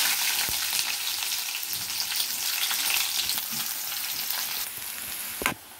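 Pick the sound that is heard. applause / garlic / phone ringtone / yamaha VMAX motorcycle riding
garlic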